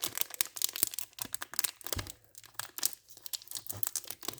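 Sealed sample packets are torn open, producing close, rapid crinkling and tearing of packaging in irregular bursts over several seconds, with no one talking.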